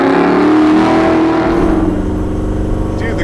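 A 347 stroker V8 engine in a 1966 Ford Mustang revs hard while driving, a loud throaty roar that swells then eases off, heard from inside the car.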